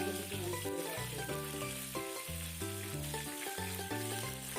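Chicken pieces frying in oil in a pan after being flipped to the other side, a steady sizzle running throughout under a loud layer of background music.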